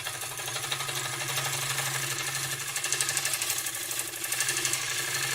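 A gouge wing shear-scraping spalted beech on a running wood lathe: a continuous, close whirring and rasping hum with a fast, steady pulse, holding level throughout without talk.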